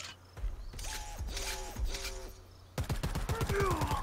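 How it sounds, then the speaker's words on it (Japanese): Gunfire in the video game Predator: Hunting Grounds: a few short rapid bursts with mechanical clatter, then a louder quick string of shots near the end. "銃声聞こえたけど"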